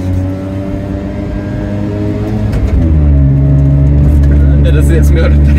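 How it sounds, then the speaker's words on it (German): Piaggio Ape 50 three-wheeler's small engine idling, then the clutch engages and the motor rises into a louder, steady drone as it pulls away, heard close up. "ich habe gerade einfach eingekuppelt, dann Gas gegeben"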